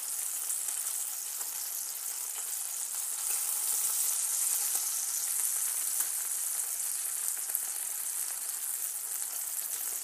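A homemade beef burger and onions frying in a pan, a steady close hiss and sizzle with no talking.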